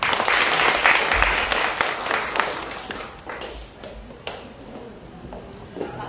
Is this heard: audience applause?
yes